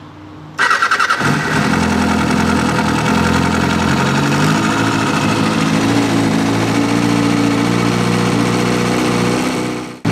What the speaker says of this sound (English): We can now turn the kill switch to on and then press the starter key.